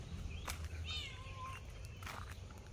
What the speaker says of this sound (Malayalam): ആ രണ്ട് പൂച്ചകൾ വല്യമാൻ്റെ തോട്ടത്തിൽ നിന്ന്